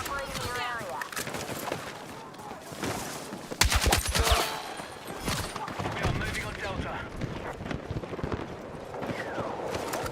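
Gunfire in Battlefield 6 rattles off in bursts under a player's ongoing talk, with one loud rapid volley midway and scattered shots around it.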